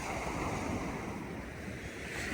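Steady roar of sea surf washing in before dawn, with wind buffeting the microphone; continuous and fairly close, no voices.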